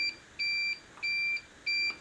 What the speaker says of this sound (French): j'ai rajouté un petit bip bip histoire de ne pas l'oublier